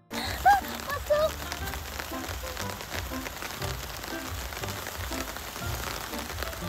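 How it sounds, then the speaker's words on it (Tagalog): Steady rain falls continuously outdoors around a children's play house, a broad even hiss throughout, with a couple of brief louder sounds early on. "Hala, umuulan na!"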